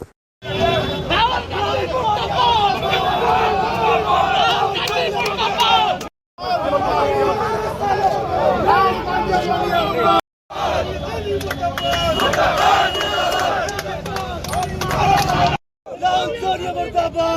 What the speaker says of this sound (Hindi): प्रदर्शन के दौरान जमकर नारेबाजी की गई।